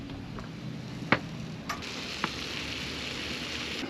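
Steady sizzling hiss of food frying in a pan aboard a boat, with a few sharp clicks and taps of utensils against it.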